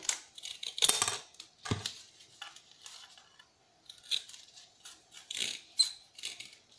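Scissors cutting laptop mouse pad circuit boards, thin, shiny material, in a run of quiet, crisp snips and crunches at close range.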